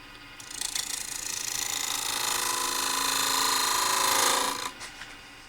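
A wood lathe spins a gavel while a spindle gouge turns a bead on its outside, giving a steady, bright cutting hiss that builds gradually, holds for several seconds, then stops abruptly near the end, with no talk.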